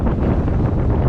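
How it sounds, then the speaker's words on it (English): Steady wind buffeting a microphone beside a cotton field, a constant low rumble and roar with no pauses, loud and close. "Pardon the wind"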